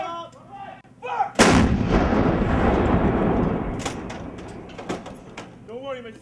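An artillery gun fires one loud, booming round after a short spoken command, the blast rolling on and decaying for several seconds, with voices speaking briefly before and after.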